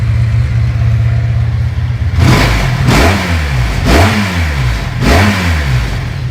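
A car engine after its vacuum ports were plugged, running loud and close at a steady idle, then revved four times in even surges about a second apart, each rise and fall clearly shaped, with no talk.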